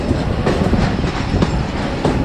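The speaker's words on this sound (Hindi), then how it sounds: "मियाँ वाली रेलवे स्टेशन की हदूद में दाखिल हो गए हैं जी" Thall Express passenger train running on rails near Mianwali railway station: a steady, loud rumble with rhythmic clickety-clack of the wheels, heard from on board with no talking.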